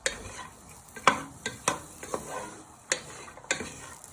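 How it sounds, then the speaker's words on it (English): Sausages fry with garlic and onion in a pan under a soft sizzle, while a utensil scrapes and clinks against the pan in a handful of sharp strokes, with no talk. "Then you want to give them a good fry."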